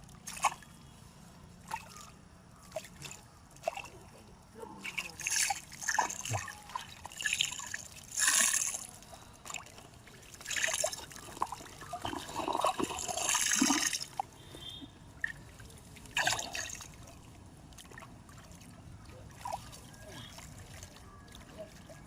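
Water from a river trickles and splashes in intermittent bursts while being scooped up, with people talking throughout and at times louder than the water.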